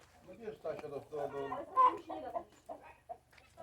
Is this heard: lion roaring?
no